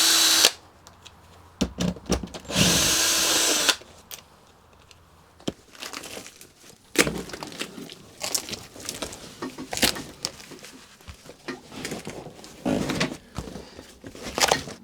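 Power tool whirring in short bursts while unbolting brackets on a Magirus Deutz 170D11 truck, with an early sustained run followed by intermittent clicks, rattles and metallic handling noises, close by.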